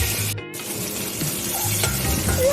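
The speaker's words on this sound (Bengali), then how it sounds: "এখন ডিমগুলোকে ফ্রাই করে নিচ্ছি।" Eggs frying in hot oil in a pan make a steady close sizzle, with a short break and some stirring and light utensil clinks.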